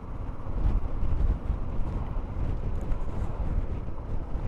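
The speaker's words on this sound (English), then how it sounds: "It's blimmin' windy" Strong, cold wind buffeting outdoors, a loud continuous low rumble roaring across the microphone with no pauses and no speech.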